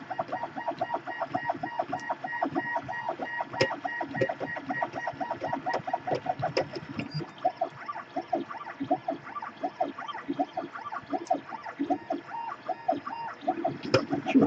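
A high speed 3D printer running a 40 mm calibration cube gives off rapid, rhythmic chirping and whirring tones from its stepper motors, close and steady throughout, with no talking.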